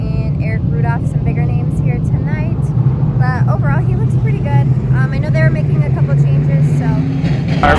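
Modified race cars in an evening heat race drone steadily as a low engine roar, with a commentator talking over them almost continuously.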